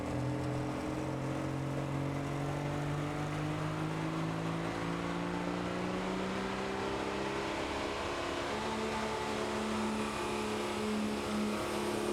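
A Dodge Ram diesel pulling truck drags a sled down a 2019 Terre Haute, Indiana pulling track, its engine droning loud and steady with a slowly rising and shifting pitch and no talk over it.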